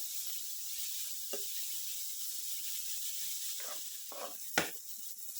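Vegetables fry for Chinese restaurant-style veg fried rice with a steady bright sizzling hiss, broken by a few soft clinks and scrapes of stirring, close and with no talk.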